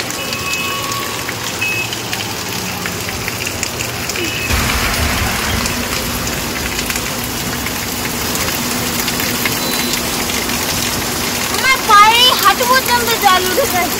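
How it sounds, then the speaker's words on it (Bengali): Heavy rain pours steadily onto a street, a dense continuous hiss throughout, with a vehicle engine idling nearby and a brief electronic beeping pattern near the end. "এখন ঝুমঝুম করে বৃষ্টি নেমে গেছে"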